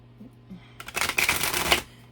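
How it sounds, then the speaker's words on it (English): A close, rapid riffle of a tarot deck being shuffled, a brisk fluttering burst lasting about a second after a low steady hum. "And so we're gonna shuffle here and turn our deck over."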